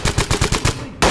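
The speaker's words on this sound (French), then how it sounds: "C'est bon, ça tire les amis." A close, loud burst of rapid gunfire during a police tactical intervention, several quick shots in an even rhythm, then a short pause before another blast.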